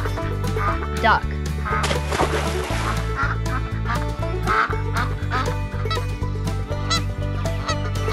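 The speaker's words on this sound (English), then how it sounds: "Duck." A duck quacks in a burst of harsh, rapid calls over a thumping, repetitive music track, the quacks bunched together near the start and then fading into the beat.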